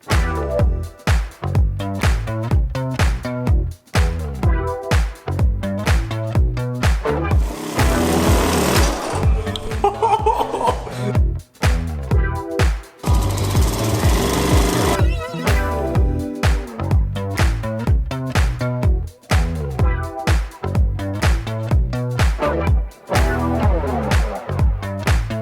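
A sewing machine runs in rapid, even bursts of stitching through fabric in a workshop, a loud mechanical clatter with short pauses and a couple of brief hissing breaks.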